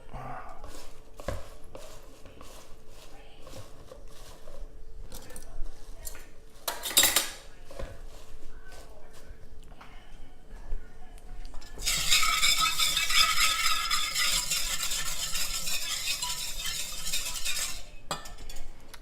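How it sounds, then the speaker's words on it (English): Kale softening in grapeseed oil in a pan: scattered utensil clinks and stirring knocks at first, then a steady, loud sizzling hiss that lasts several seconds. "right here I have my kale with my grapeseed oil, softening up"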